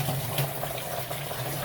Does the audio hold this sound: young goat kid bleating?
no